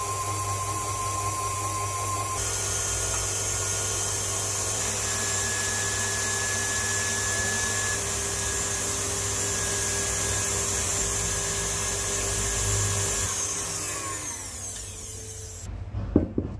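An electric mixer beats cake batter in a bowl for a caramel and crème brûlée Yule log, giving a steady, loud motor whir that holds for about fifteen seconds and then shifts pitch and rattles as it winds down.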